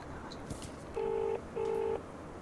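A telephone sounds two clear, moderately loud dialing tones in quick succession while a call is placed, over a faint background hum.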